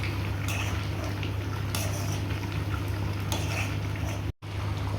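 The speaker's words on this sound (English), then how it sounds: "Now I will add half spoons of black pepper and mix it." A spoon stirs black pepper into chicken karahi in a pan, giving repeated metallic scrapes and clinks over a steady low hum, with a brief dropout near the end.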